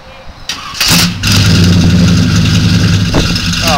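A 265 Chevy engine cranks briefly, then catches with a loud roar and settles into a steady, rumbling idle close by.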